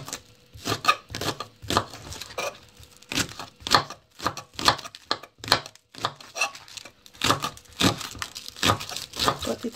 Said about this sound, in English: Now I just go ahead and cut the white onions leaves.